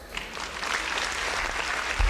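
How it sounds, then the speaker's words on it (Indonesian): A small studio audience on an Indonesian talk show breaks into brief applause, with close, lively clapping that holds for a couple of seconds alongside a soft thump at the end. "Tepuk tangan kan nih?"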